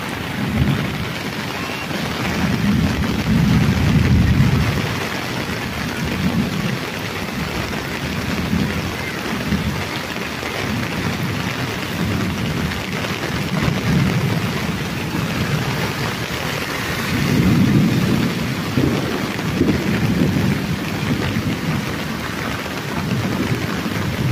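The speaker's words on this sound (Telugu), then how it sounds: "ఎప్పుడూ చూడండి వర్షం." Heavy rain pours steadily, with low thunder rolling and rumbling repeatedly underneath. The storm is loud and continuous, with no talk.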